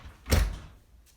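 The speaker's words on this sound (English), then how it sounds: "go ahead and close the door." A door is swung shut with a suspension-training strap anchored in it, giving one dull, close thump followed by a short fading rumble and quiet.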